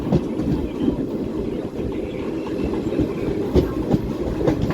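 A passenger train rolls on past Parali station in India, a steady low rumble with rhythmic clickety-clack of wheels over rail joints, continuous and fairly loud throughout.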